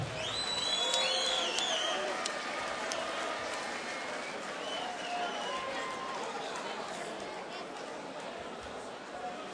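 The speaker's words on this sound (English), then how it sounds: "a big round of applause, what a fighter" Crowd applause and cheering for a fighter after a hard-fought bout at an amateur combat event, a broad roar of clapping and chatter from a large audience, with a loud announcer voice over it at the start.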